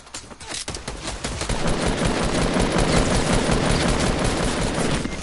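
Sustained automatic gunfire from the video game Fortnite, a dense rapid burst of shots filling the whole stretch, loud and continuous with no talk over it.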